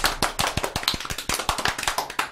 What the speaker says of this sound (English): And I think another round of applause.